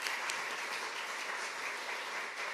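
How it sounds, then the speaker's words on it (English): An audience applauds award winners at a lecture event: dense, even clapping from a crowd, somewhat distant and moderately quiet, holding steady throughout. "We can give them a round of applause."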